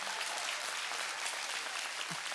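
A church congregation claps politely for a couple of seconds, a soft, even patter of many hands at moderate volume.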